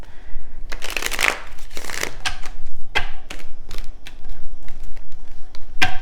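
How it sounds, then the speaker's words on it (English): Tarot cards being shuffled in repeated riffling bursts, crisp and close, with brief pauses between rounds and no talking. "Oh, maybe I'll just shuffle one more time."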